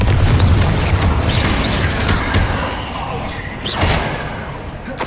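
A fire-spell explosion in the Hogwarts Legacy video game, heavy low booming bursts with rumbling tails and a second blast near the end, loud and close over a bed of combat noise.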